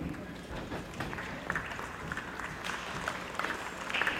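Audience applause at a 2015 convention in Newark, New Jersey, a steady wash of clapping from a large crowd that holds at an even level throughout.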